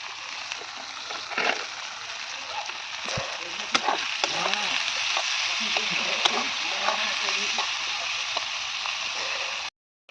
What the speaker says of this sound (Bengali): পেঁয়াজটা একটু ভালোভাবে ভেজে নিচ্ছি